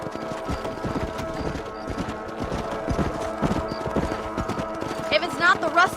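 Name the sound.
horse galloping in video game Red Dead Redemption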